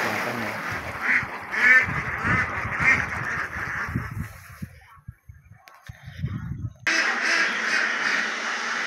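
Ducks on a farm bathing in a pond quack repeatedly, a loud chattering flock close by, thinning to a few scattered sounds before the noisy quacking resumes.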